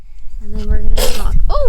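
A single sharp sneeze bursts out loudly at the end of a short bit of close-up talking.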